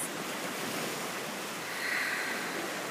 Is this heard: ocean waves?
yes